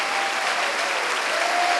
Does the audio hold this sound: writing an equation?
no